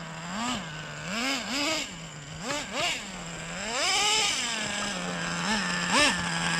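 A Traxxas Slayer Nitro RC truck's small nitro engine revved in repeated short blips, a buzzing idle climbing into high whines again and again, then one longer sustained rev, loud and close.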